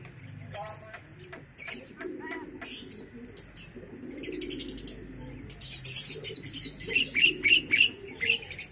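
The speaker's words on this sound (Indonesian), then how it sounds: "jalak balinya nih teman-teman" A Bali myna gives a series of sharp, high chirping calls, becoming rapid and repeated toward the end, with people talking softly in the background.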